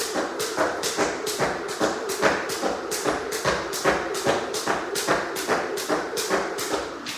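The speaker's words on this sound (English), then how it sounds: "I'm not making thuds when I hit the ground." Feet landing lightly on the ground while jumping rope, a steady rhythmic patter of soft taps about twice per second, close and even with no heavy thuds.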